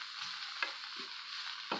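Rice going into a frying pan for a simple meatless fried rice, giving a steady sizzle with a few soft scraping stirs and thumps spread across the clip, no voices.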